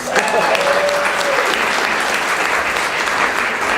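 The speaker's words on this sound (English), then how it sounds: "a big round of applause for Laura Thomas" An audience at an early childhood apprenticeship grant announcement gives a speaker a round of applause, a loud, dense burst of clapping that holds steady for a few seconds, close by.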